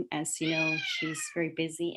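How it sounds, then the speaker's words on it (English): A house cat meows in a drawn-out, rising cry in the middle of a person's speech during an online city council meeting, close to the microphone and overlapping the voice. "sorry for my cat."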